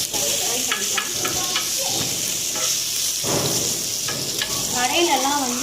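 Marinated chicken sizzles and fries in hot oil on a tawa, a steady crackling hiss with occasional stirring clatter, and a voice speaks briefly near the end.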